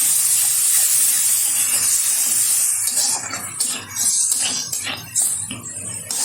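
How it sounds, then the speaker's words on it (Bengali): Spice paste of turmeric powder and salt for an egg curry sizzles as it is fried and stirred in a pan, a steady bright hiss with a few metal scrapes and clinks of a utensil, close by and without talk. "ভালোভাবে কষিয়ে নেব।"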